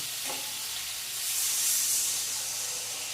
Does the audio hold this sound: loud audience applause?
no